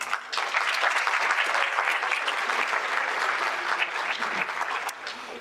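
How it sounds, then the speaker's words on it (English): A school awards night crowd gives sustained, even applause for winter sports athletes and their coaches, a full steady wash of clapping that holds for several seconds. "I would like to give a round of applause to our winter sports athletes, along with their coaches and everyone who helped make tonight possible"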